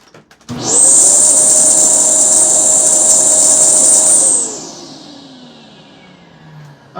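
A Kenmore Elite vacuum cleaner runs after a lower hose replacement, switching on with a loud steady whine and roar that holds for several seconds, then winds down with a falling pitch as the motor coasts to a stop.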